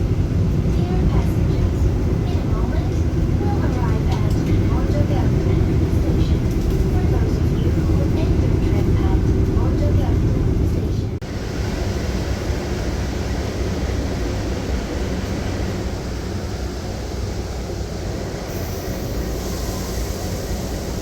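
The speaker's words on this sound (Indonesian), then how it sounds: "Kereta api Bima sudah tiba di stasiun Mojokerto" Steady low rumble and rolling wheel noise inside the Bima passenger train at night as it nears Mojokerto station, loud and continuous, easing to a quieter, thinner roar about halfway through.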